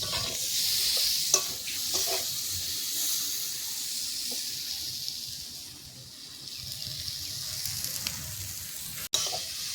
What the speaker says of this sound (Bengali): ফুলকপিগুলো কিন্তু ভালোভাবে ভেজে নিচ্ছি। প্রায় ভাজা হয়ে গেছে।